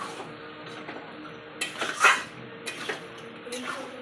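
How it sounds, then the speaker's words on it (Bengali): Chicken fries with spices in a pan as a utensil stirs and scrapes it, a quiet sizzle broken by several clinks and scrapes. "মাংসটা যতক্ষণ না ভাজানো হচ্ছে ততক্ষণ এইভাবে নাড়তেই থাকবো।"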